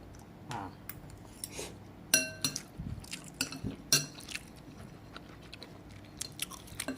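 Someone bites into and chews spicy cheese-flavoured instant noodles up close, giving a run of crunchy bites and wet chewing with a few sharper clicks, heard alone without talk.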